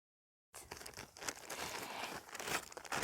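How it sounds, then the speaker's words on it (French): A roll of toilet paper is handled up close on a hiking trip, giving soft, continuous crinkling and rustling after a short silent start. "j'ai toujours mon rouleau de papier toilette."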